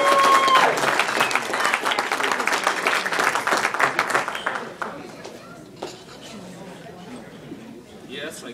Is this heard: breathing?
no